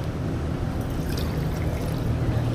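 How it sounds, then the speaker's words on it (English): Coffee and cold water poured into a hydration bladder, producing an even, close liquid rush that runs unbroken for a few seconds without talk. "we're gonna put the coffee in this, along with some cold water"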